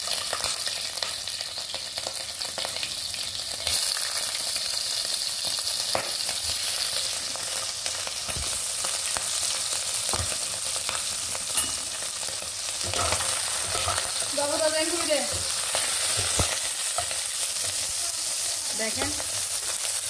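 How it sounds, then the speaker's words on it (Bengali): Shrimp frying in a hot pan give off a steady, loud sizzle for the full length, with occasional scraping stirs and brief stray sounds near the end, and nobody speaks. "সেই জন্যে দেখুন আমি এখন এখানে চিংড়ি মাছগুলো ভেজে নিব।"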